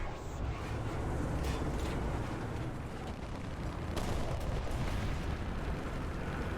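Gunfire in a video game sounds as a dense, steady stream of muffled shots and booms, fairly faint and continuous, with one sharper crack standing out midway.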